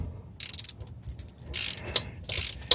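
Ratchet clicking on a long set of socket extensions reaching a power steering pump bolt on a 2007 Kia Sedona, several close bursts of rapid metallic pawl clicks separated by short pauses.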